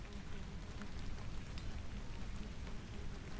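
Steady rain from the video game The Excavation of Hob's Barrow falls as an even, soft hiss, continuous and alone throughout.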